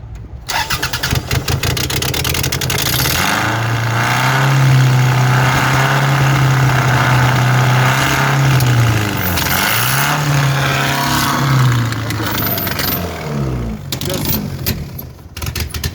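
A 2005 Toyota RAV4 with hard-starting and smoking trouble cranks and catches, then idles and revs in two rising surges over steady engine drone, with occasional voices in the background.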